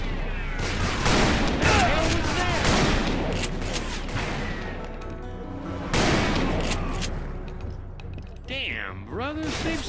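Rapid, loud gunshots crack again and again in a Wild West shootout near a saloon in the video game Call of Juarez: Bound in Blood, with bursts overlapping and voices calling out between the shots.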